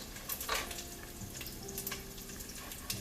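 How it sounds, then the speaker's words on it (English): Onions hitting a hot pan for caldo verde soup, a steady close sizzle with a few brief scrapes and bursts of crackle, no talk. "this is where you now will add in the onions"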